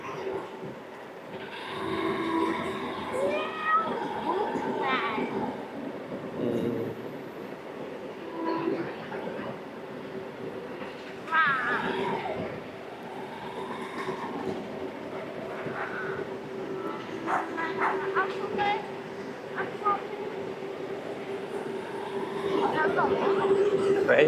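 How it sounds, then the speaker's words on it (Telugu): A train passes through the Clough Peta area of Ongole, a steady rolling rumble with rail clatter running throughout, with people talking over it nearby. "ట్రైన్ చూడు"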